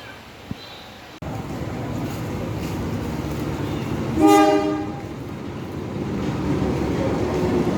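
A freight train rumbles steadily nearby as it arrives at a station, and a short horn blast sounds partway through as the heavy rolling noise continues.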